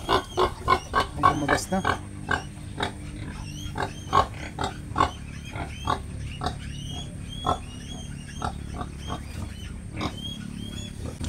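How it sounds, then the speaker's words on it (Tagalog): A native-breed sow grunts repeatedly while giving birth, loud close grunts in an irregular series over a steady low background, with a brief human remark partway through. "Itong alagang baboy naman natin ay may lahing native"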